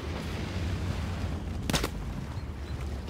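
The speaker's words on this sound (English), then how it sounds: "Something is shooting from the back at me." Gunfire in a WWII shooter game set around Driel, a brief burst of shots from behind at about the midpoint over a steady low rumble of battle ambience.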